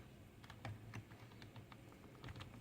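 Quick, light keystrokes on a computer keyboard come in an irregular run of clicks, close but quiet, with short pauses between bursts and no voices.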